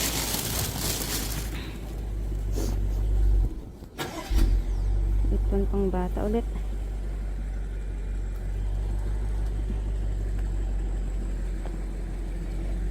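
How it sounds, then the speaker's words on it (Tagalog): A car's engine starts and idles nearby on a street in Korea, with a brief low rumble of a vehicle pulling in to park, under ongoing talk from people. "Ayan, may sasakyan. Magpapark siguro."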